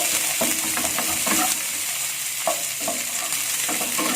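Chili is stirred into a pan of shrimp broth frying for Indonesian stir-fried green beans, with a steady close sizzle and repeated scraping stirs throughout.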